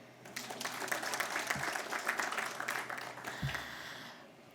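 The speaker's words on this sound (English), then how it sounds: "You should clap." An audience clapping at a public event on Kenya's femicide crisis, a moderate, steady round of applause that rises, holds for a few seconds, then thins out and fades.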